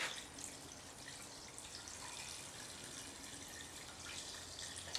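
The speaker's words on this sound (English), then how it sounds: "put my chicken broth in." Chicken broth pours steadily into a pot, a continuous watery splashing and trickling that stays fairly even throughout, with no voices.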